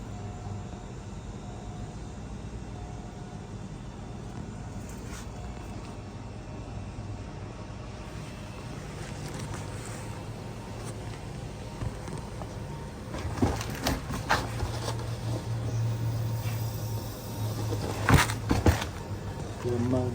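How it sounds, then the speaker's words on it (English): An LG 220-volt air-conditioner compressor and fan start up and run, giving a steady low mechanical hum with a constant drone that grows louder and busier partway through, with a few sharper bursts near the end. "Fan started, compressor started."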